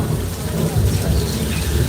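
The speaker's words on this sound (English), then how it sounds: "we've got speakers and strobe lights creating the illusion of thunder and lightning" A simulated thunderstorm on a studio tram tour: loudspeaker thunder rumbles heavily under a dense hiss of sprinkler rain, loud and continuous, with no talking.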